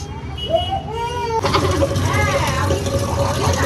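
Rice being rinsed with running water in a home kitchen, a steady splashing wash that starts around the middle and continues alongside background noise and brief voices.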